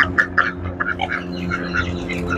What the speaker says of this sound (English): attack of the ducks and pigeons